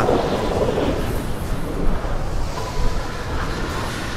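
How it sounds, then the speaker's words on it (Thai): Thunder from a lightning strike in the video game GTA V, a loud, sustained low rumble that rolls on for several seconds with slight swells and no talk over it. "ฟ้าผ่าด้วยฟ้าผ่ามีฟ้าผ่าด้วย เสียงน่ากลัวเสียงน่ากลัว"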